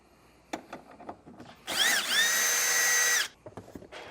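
A power tool with an 8mm socket removing a bolt during a trailer wiring harness install, a single whirring burst of about a second and a half between quieter clicks and handling noises.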